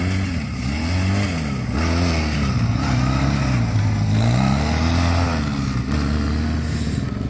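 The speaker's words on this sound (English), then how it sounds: "There's Craig on my quad." A quad bike engine revving nearby, its pitch rising and falling in repeated swells as it is ridden, loud and continuous.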